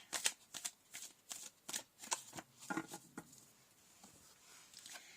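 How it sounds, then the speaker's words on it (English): A deck of oracle cards being shuffled: quick, soft riffling bursts in an uneven rhythm, close but quiet, with no voices. "going to pull some Oracle cards to finish"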